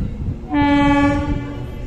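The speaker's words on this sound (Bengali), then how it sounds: "3 নম্বর প্ল্যাটফর্মে আসছে, ডাউন ট্রেন চাপে গাড়ি 3 নম্বর প্ল্যাটফর্মে আসছে।" A local train pulling into a station platform in Murshidabad sounds a single loud, sustained horn blast close by, over a low rolling rumble.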